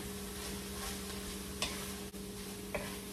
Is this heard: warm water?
no